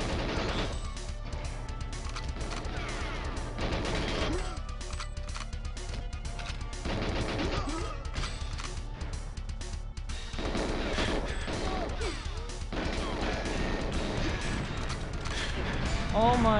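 C4 explosions and gunfire from the N64 video game 007 GoldenEye crackle in dense, loud bursts with booming blasts, while game music plays and a player talks over the action.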